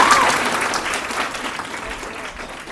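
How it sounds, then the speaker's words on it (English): Audience applause breaks out for a theater performer in a comedy classroom sketch, a steady wash of clapping hands that starts strong and slowly eases off. "Please applaud."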